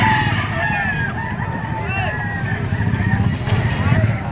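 A yellow-legged bull stag rooster crows repeatedly at a busy poultry market in Padre Garcia, Batangas, its calls ringing over constant crowd chatter and other clucking fowl nearby.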